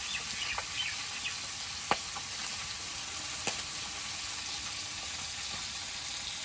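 Fish frying in a pan over a wood-fired stove, a soft, even sizzle with a few faint pops and clicks, no voices.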